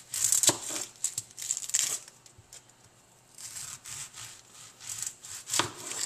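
A knife slices the top off a big sweet onion, with crisp crackling cuts through the papery skin and firm flesh in short bursts, a quiet pause midway, then a final sharp cut.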